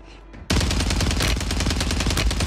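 Sustained rapid automatic fire from an MP5 submachine gun in the shooter game Warzone, a loud dense burst starting abruptly after a brief quiet lead-in and continuing without pause.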